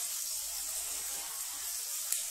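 Chopped onion frying in hot oil for a cabbage sabzi, giving a steady, close hiss of sizzling that holds evenly throughout with one small spike near the end.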